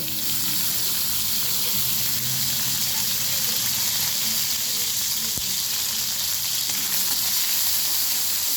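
Whole cumin, bay leaf and green chili crackle in hot oil, giving a steady, close, loud sizzle that runs unbroken, with a faint clink of utensils partway through.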